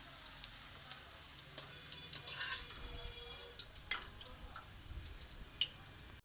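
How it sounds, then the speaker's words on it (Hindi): Sliced onions keep frying in hot oil in a pan after the flame is switched off, a soft steady sizzle broken by frequent small pops and crackles, close up with no talking. "फ्लेम ऑफ होने के बाद भी प्याज जो है वो 1-2 मिनट तक फ्राई होता रहता है।"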